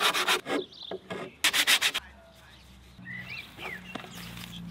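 Wooden struts for a van rooftop deck are sanded by hand: close, rhythmic rasping strokes in quick bursts, then quieter rubbing and faint rustling.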